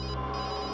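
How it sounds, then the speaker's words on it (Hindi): A telephone ringing inside a forensic lab, a brief burst of dense, steady electronic ringing heard alone at moderate loudness. "तो लैब में बज रही है, मतलब तारिका का फोन यही कहीं है लैब में।"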